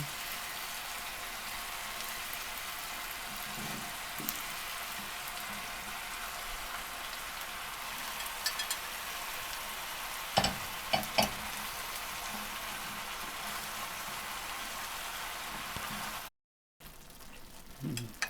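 Thick-cut zucchini strips stew in a pan, a steady soft sizzle and crackle throughout, with a few clinks of a utensil and a brief gap near the end.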